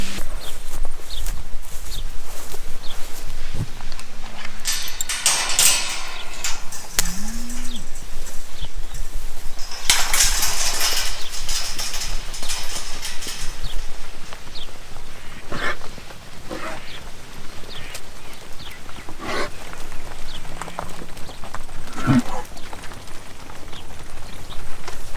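Cattle heading out to a chicory field on a farm, with scattered hoof steps and rustling over steady outdoor background noise, a few low calls and birdsong mixed in.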